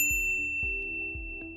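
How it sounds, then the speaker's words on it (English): A bright electronic notification bell sounds a few quick, clear dings, each with a short ringing tail, over a soft low backing tone. "ring the bell to be notified about our latest videos"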